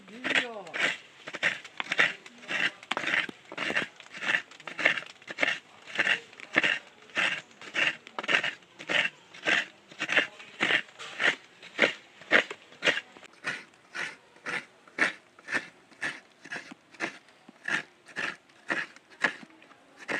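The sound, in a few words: grating coconut with a hand coconut scraper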